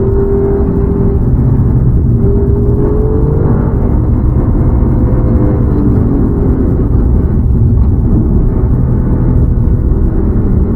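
An Alfa Romeo Giulia Quadrifoglio (2020 update) is driven hard, its engine producing a loud, continuous, close-up drone whose pitch sweeps and shifts throughout the run.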